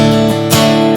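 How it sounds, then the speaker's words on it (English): Line 6 Variax JTV-59 modeling a Martin D28 dreadnought acoustic guitar, strummed chords ringing loud and close, with a second strum about halfway through. "The D28 is like the standard Dreadnought acoustic."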